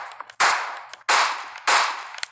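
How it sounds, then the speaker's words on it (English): Three loud, sharp gunshots from a gun in Roblox, spaced about two-thirds of a second apart, each with a short ringing tail over a quiet background. "Use the gun we got earlier and shoot them."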